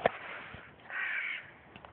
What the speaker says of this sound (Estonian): Varesed.